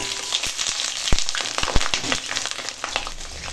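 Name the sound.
potatoes and pointed gourd frying in hot oil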